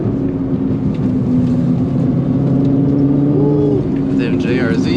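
A Nissan Nismo GT-R drives along for a shoot, a steady loud engine drone with a slight rise in pitch, while someone talks over it.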